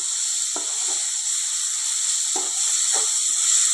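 A ground green chili paste sizzles in a pan with a steady hiss, and a few soft scraping knocks come as it is stirred.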